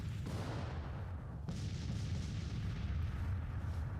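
Napoleon cannons firing in the Civil War strategy game Grand Tactician, a deep continuous rumble of artillery with a heavy boom around the middle, dense and loud with no talking.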